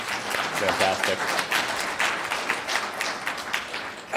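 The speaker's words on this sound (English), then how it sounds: "Let's do another round of applause for all the other speakers today" Steady applause from a conference audience for the day's speakers, many hands clapping in a continuous dense wash for several seconds, with a brief spoken remark over it.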